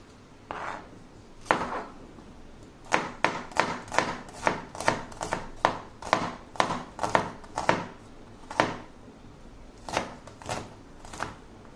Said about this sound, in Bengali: এই পর্যায়ে আমি রসুন আর পেঁয়াজগুলো কেটে নিব।